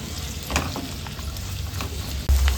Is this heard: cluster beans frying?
yes